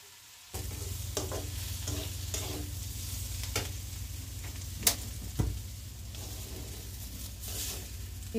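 Vegetable bhaji stir-fried in a kadai, a steady sizzle running throughout after a quiet start, with the scrape and clack of a spatula against the pan every so often, two sharper knocks standing out near the middle.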